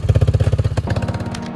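A motorcycle engine being readied on a beach for a sea turtle egg search, loud and close, with a rapid regular pulsing idle that changes pitch midway as it revs.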